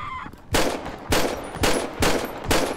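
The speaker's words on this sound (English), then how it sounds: "I noticed the difference in the sounds of the shotguns and all the guns" Five loud, evenly spaced gun blasts from GTA V running the Redux mod, each shot a sharp broadband crack with a short tail, roughly half a second apart, with no voices.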